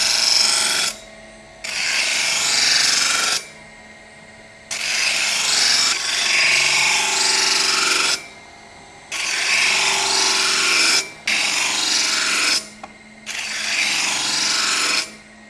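A handmade Japanese knife blade is ground to shape on a power grinder, heard as loud abrasive rasping bursts of one to three seconds, separated by short pauses as the blade is lifted and repositioned, with no talking.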